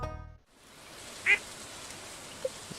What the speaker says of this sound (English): So I will purchase 2 ducks.